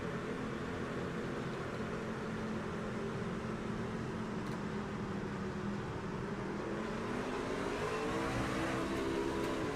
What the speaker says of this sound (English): He puts the clutch in to try and change up, and it just doesn't go anywhere.